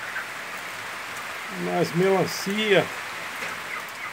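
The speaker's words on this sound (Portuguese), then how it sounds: "Mas tá chovendo, tá batendo uma chuva aí, rapaz." Rain falls steadily on a chicken coop in Mato Grosso, a constant soft hiss of drops that continues under a man's brief speech.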